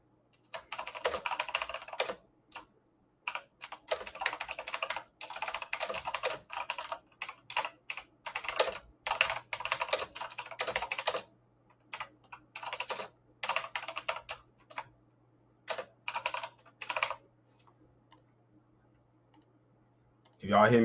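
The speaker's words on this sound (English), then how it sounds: "If y'all hear me typing, that's because I'm titling this video." Bursts of rapid computer keyboard typing, close and clicky, come in uneven runs with short pauses between them, against a faint low hum.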